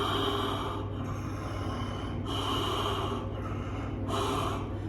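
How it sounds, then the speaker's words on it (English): Slow, deep Ujjayi breaths pass through a constricted throat, each a long hissing, oceanic rush, with about three clear swells close to the microphone. "I was trying to practice this Ujjayi breath during the calisthenics."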